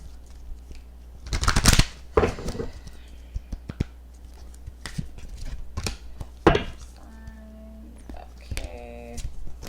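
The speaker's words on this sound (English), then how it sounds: "I'm gonna shuffle the cards for each sign, for each zodiac sign" A deck of cards is shuffled for a zodiac reading in a few sharp, loud riffling bursts with quieter handling in between, close up, and a brief voice toward the end.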